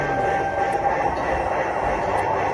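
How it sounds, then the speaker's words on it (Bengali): A miniature train running on a track through a restaurant, bringing ice cream to a table, gives a soft, steady rolling rumble under light room noise for a couple of seconds. "আইসক্রিম নেওয়ার পর আবার নিজে থেকেই চলে যাচ্ছে ট্রেনটা।"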